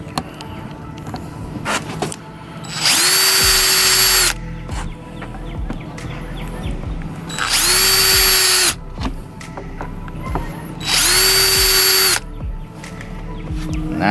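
A power drill bores into the outside of a Raptor Reptiles Mondo reptile tank in three loud whining bursts of a couple of seconds each, separated by quieter handling noises.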